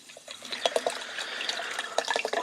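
Red Bull energy drinks being poured out for a smoothie, splashing liquid with small glugging bursts and trickles, close and fairly loud, no speech.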